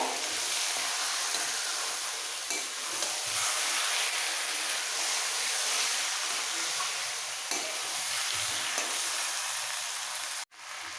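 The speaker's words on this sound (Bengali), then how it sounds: "মাংস দেওয়ার পর খুব ভালো করে মশলার সাথে কষিয়ে নেব" Mutton pieces sear with spices in a pan, giving a steady, loud and close sizzle that runs unbroken with faint stirring scrapes, then drops away abruptly near the end.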